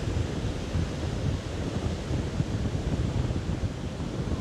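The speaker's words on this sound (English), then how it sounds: "Just sitting here watching the waves as they roll in." Surf rolls steadily onto the shore at Carolina Beach, larger and choppier than usual ahead of a tropical storm, as a continuous broadband wash mixed with wind buffeting the microphone, with no voices.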